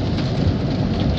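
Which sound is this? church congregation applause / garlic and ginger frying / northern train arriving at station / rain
rain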